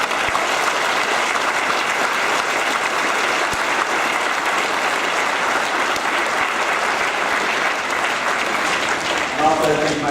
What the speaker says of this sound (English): A round of applause for our ball boys